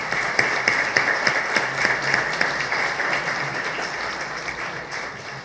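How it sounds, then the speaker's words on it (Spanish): Audience at a legal argumentation colloquium applauds a departing speaker, a dense round of clapping that starts strong with sharp individual claps and gradually thins and fades toward the end. "Despidamos con un aplauso al doctor Lara Chagoyán"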